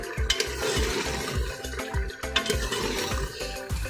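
Turnip meat curry is fried over a medium-high flame, with rhythmic stirring and scraping strokes in the pot repeating about twice a second over a continuous sizzle.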